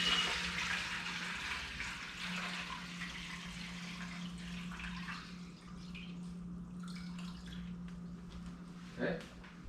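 Water is poured into the sink of an HL alkaline water filter system, a soft steady splashing rush with a low hum behind, fairly faint.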